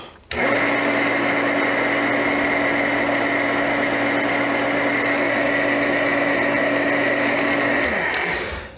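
A Hornady primer pocket uniformer cutting a cartridge case, heard as a loud, steady high-pitched motor whine with a grinding edge, starting abruptly and running for about eight seconds before winding down.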